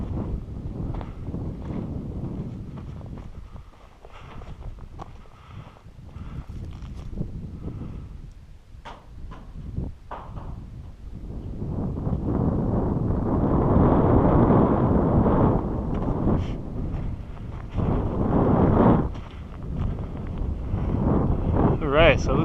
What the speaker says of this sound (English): See if I can get a better angle on the wind.